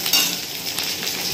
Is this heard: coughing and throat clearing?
no